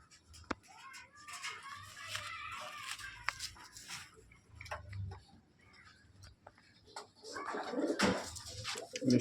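Pigeons of a fancy breed coo softly in a loft, low repeated cooing phrases mixed with faint ticking and scattered small clicks, fairly quiet and close.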